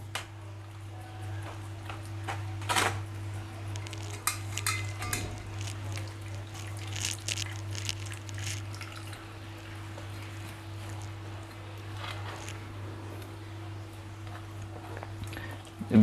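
Herbal medicine liquid made with red ginger is strained using kitchen utensils, giving scattered metallic clinks and scrapes and soft liquid noises over a steady low hum, with no speech.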